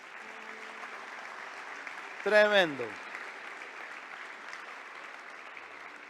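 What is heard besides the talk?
audience applause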